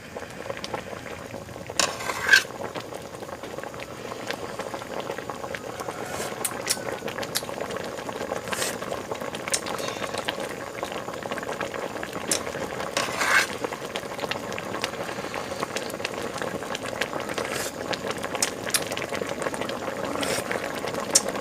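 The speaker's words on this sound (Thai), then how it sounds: "เดี๋ยวให้เดือดอีกสักพักหนึ่งก็ได้แล้วครับ" Frog and gourd curry bubbles at a rolling boil in a pot, a continuous close bubbling with intermittent pops and small clicks over the whole stretch, with no voices.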